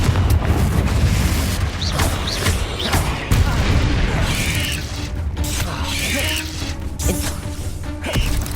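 Confringo spell blasts in Hogwarts Legacy, a run of loud booming impacts and crackling bursts amid combat noise, with short whooshing spell effects in between.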